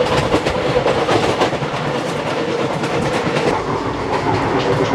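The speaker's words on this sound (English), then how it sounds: "It's so wonderful to travel in Indian Railway." Indian Railway passenger train in motion, recorded from on board: a loud, continuous rumble with a rapid clickety-clack of wheels over rail joints and no voices.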